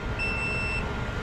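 A gas alarm held at a diesel heater exhaust pipe sounds a single high electronic beep tone, lasting under a second, over a steady background roar, with no speech.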